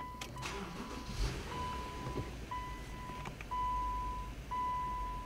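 A Subaru Legacy sits running with the engine as a low steady hum heard from inside the car, while repeated dashboard chime beeps and a few small clicks sound over it.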